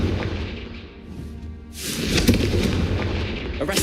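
A Confringo blasting spell detonating in Hogwarts Legacy, a deep booming explosion that swells after a quieter rumble and rolls on with a heavy, sustained blast.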